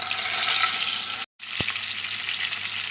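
Fish sizzling and frying in hot mustard oil in a wok, a steady loud crackling hiss that briefly cuts out, then resumes with a soft clink.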